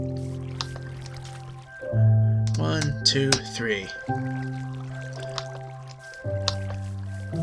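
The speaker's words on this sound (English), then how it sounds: "We'll go get our buckets of water." Splashing and squelching water as buckets are emptied in the Minecraft world, with blocky game tones and bubbly drips sounding over several seconds while a man counts aloud.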